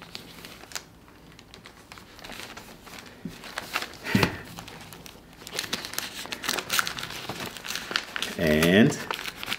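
Plastic tape being pulled up from a surface to form a pocket, crinkling and crackling in scattered bursts, loudest near the end, with some low rustling throughout.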